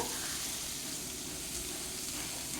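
Ginger paste and garlic paste, half a teaspoon each, sizzle in a hot pan with chopped vegetables, giving a steady, close frying hiss that continues without a break.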